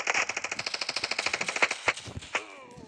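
Rapid bursts of gunfire in a sport-style shooter game, a fast automatic rattle followed by a few separate louder shots, up close with no talking.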